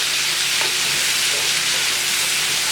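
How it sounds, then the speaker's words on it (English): Sliced onions sizzle steadily in an oiled pan alongside short rib for a braised beef dish; a loud, continuous, even hiss runs throughout with no talking. "So you just kind of want to saute this up"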